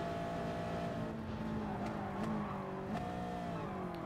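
A race car engine in the GT Sport video game, pushed hard in a close racing battle, screaming steadily at high revs with brief shifts in pitch and a few faint clicks, no voices over it.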